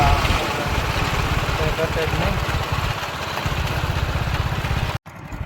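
An Eicher tractor with a rotavator attached idles with a steady, loud low engine rumble and regular chugging pulses, with voices talking over it before the sound cuts out briefly near the end.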